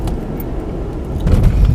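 Steady low engine rumble and road noise from inside a moving car, continuous throughout and swelling slightly louder toward the end, with no talking.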